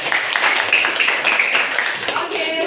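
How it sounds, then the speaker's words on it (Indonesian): A group of teachers in a training session applauds a group's turn, giving brief, dense clapping at moderate level with some voices mixed in. "Aplaus untuk kelompok 2"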